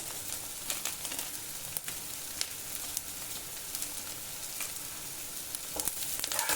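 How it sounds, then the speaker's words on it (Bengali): Fish roe fries in oil with chili powder for a fish egg and potato dish, a bright continuous hiss and crackle close by, with occasional soft stirring knocks and no talking. "ভালো করে নেড়ে নেড়ে মাছের ডিমটাকে ভেজে নিতে হবে।"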